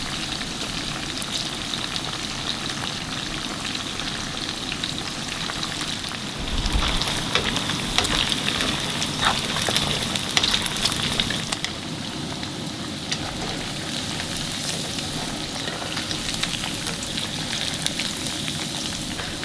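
Pork frying in hot oil at about 350 to 375 degrees Fahrenheit, a dense continuous sizzle and crackle like steady rain, swelling louder for a few seconds midway as it is stirred, with no voices.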